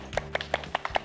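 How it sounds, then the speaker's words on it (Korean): A small group claps together at the Hapdeok folk museum beside the Joseon-era Hapdeokje reservoir, a short run of about seven distinct, evenly spaced claps, close and clear. "다 같이 박수"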